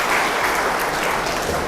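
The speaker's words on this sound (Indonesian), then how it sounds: "Tepuk tangannya dong." Campus lecture audience at STAI At-Taqwa in Bekasi claps together, a thick, close, continuous patter of many hands at steady loudness for the whole stretch.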